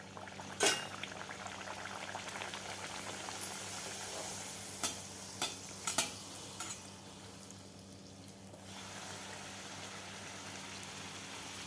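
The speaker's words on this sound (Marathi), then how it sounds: "पुरी तळण्यासाठी आपलं तेल गरम झालेलं आहे. तर आता आपण पुऱ्या तळून घेऊया." Puris fry in hot oil for an Aamras Puri recipe, a soft continuous bubbling sizzle with a few sharp crackles and spatters, steady and moderately quiet.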